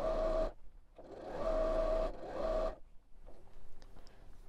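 Sewing machine stitching strips of fabric for a Christmas stocking, running in three quick bursts with short pauses between, followed by quiet handling of the fabric.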